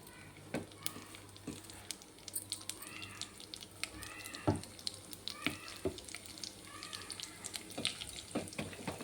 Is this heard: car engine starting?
no